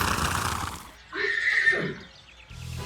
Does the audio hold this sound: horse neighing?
yes